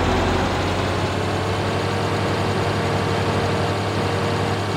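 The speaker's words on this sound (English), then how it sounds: "we're gonna have to quickly move our tractor" Steady, loud engine drone of a tractor in Farming Simulator 2013, a continuous low idling hum with no variation throughout and no talking.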